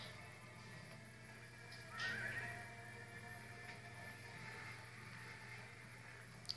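A horse in the video game Happy Wars gives a single whinny near the two-second mark, rising briefly over a steady hum of game music and ambience, then the background carries on quietly.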